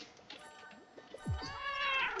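A cat meows in the Bee Swarm Simulator game, giving a couple of drawn-out, rising and falling cries close up over a quiet backdrop.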